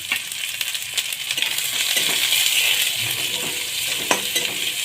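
Onion and masala frying in a pan for a prawn curry, a dense continuous hiss of sizzling oil with frequent scrapes and clinks of a spatula against the metal, close and fairly loud.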